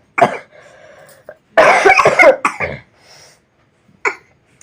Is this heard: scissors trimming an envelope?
no